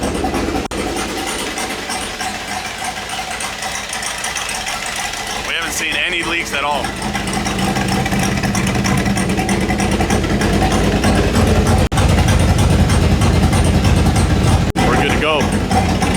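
A turbocharged truck engine runs steadily at idle, seen from underneath, its low mechanical drone filling the background while people talk over it close by.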